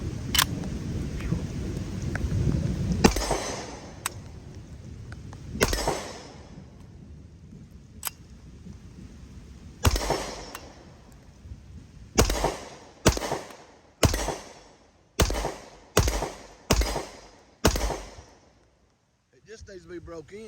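Sharp gunshots from a Hi Point JXP 10mm pistol, a loud rapid string of about eight closely spaced cracks after a few scattered earlier shots, outdoors with wind noise and a voice talking at the start.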